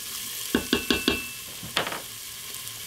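Onions sizzle in a hot Instant Pot, with a run of four quick scraping stirs followed by a rougher longer stir against a steady frying hiss, close and fairly quiet with no talking.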